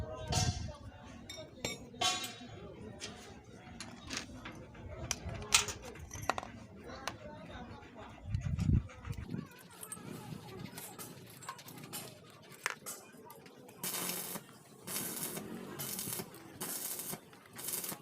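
Threads being cut with a tap and tap handle to repair a stripped motor oil drain bolt thread, giving small metallic clinks and ticks, intermittent and close, with a stretch of fast repeated clicking near the end.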